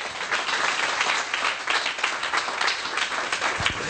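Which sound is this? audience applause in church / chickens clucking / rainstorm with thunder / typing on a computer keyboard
audience applause in church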